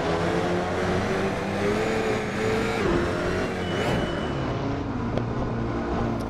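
An Alpine A110 GT4 race car in Assetto Corsa, its engine droning loud and steady with the pitch sliding down and up as the rear steps out, alone without talk.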